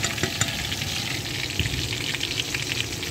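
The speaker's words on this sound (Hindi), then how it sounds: "ये स्प्रिंग ऑनियन है इनको फ्राई करूँगी" Spring onions fry in hot oil with a steady, close crackling sizzle and scattered pops throughout, alone without talk.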